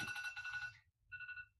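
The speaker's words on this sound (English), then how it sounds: "Whoops, sorry, my phone." A mobile phone rings indoors with a bright electronic ringtone: one long trilling phrase, a short pause, then a briefer repeat, fairly faint over quiet room tone.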